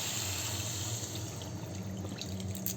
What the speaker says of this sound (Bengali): এই পর্যায়ে আমি আস্তে আস্তে জল ছেড়ে দেবো